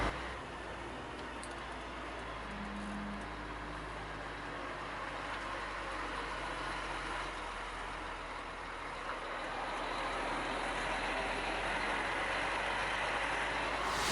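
A truck driving to an unloading point, heard from inside as a steady low engine rumble and road noise that swells slightly toward the end, with no talk.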